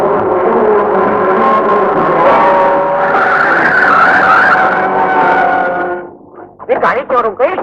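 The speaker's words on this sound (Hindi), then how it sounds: "गाड़ी क्यों रुक गई?" A car skids to a stop with a long loud tire squeal, apparently from a punctured tyre in a 1971 Pakistani action movie, then fades as a voice speaks over the end.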